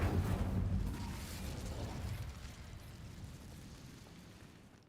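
Incendio fire spell cast in the video game Hogwarts Legacy, a loud roaring whoosh of flame that bursts at once and then slowly fades over several seconds, no talk.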